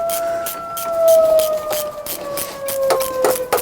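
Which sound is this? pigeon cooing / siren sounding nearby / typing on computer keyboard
siren sounding nearby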